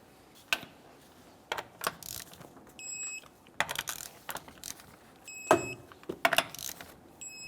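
A torque wrench ratchets lug nuts tight on the front wheel of a 2001-2005 Ford Explorer Sport Trac after a brake job, giving several short bursts of close metallic ratchet clicks, each ending in a sharp click, with pauses between nuts.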